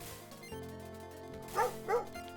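A dog in a streamer's room gives two short, soft woofs close together near the end, heard under a low steady background hum.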